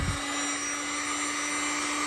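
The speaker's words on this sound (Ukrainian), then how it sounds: "Так, погрунтував, зараз трошки підсушу феном." A hair dryer blows steadily on freshly applied automotive primer on a trailer, a constant close whooshing roar with an electric hum that holds for the whole stretch, no talk.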